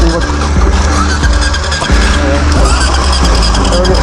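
Flooded dual sport motorcycle on a snowy mountain trail being coaxed to start, a loud sputtering, rough engine with squealing and uneven bursts, with riders talking over it.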